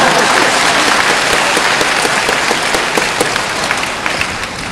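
A lecture audience in Hong Kong bursts into dense, sustained applause, many hands clapping steadily at close range and easing off slightly toward the end, with no one talking over it.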